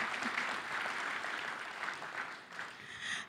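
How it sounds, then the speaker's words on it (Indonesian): Applause from an audience at a Kadin business organization dialogue event with Ridwan Kamil, a dense steady wash of clapping holding at full level for about three seconds. "Tepuk tangan buat Kadin."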